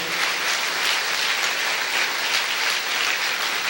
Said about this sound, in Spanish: Denle un aplauso a estas personas que hicieron la oración